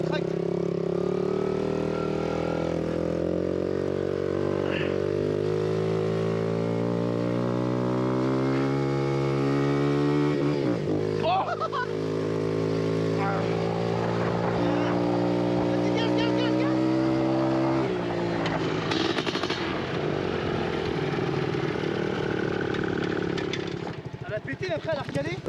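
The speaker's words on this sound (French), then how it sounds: "Bon là je suis parti avec la petite YCF. C'est une 88 mais elle a un moteur de 125 dedans." A YCF 88 pit bike fitted with a 125cc engine runs steadily throughout, its harmonic engine note climbing and falling as the throttle is worked, close up, with a brief dip around the middle.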